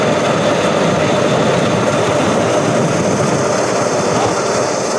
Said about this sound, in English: So the plane will be leaving, and here we go.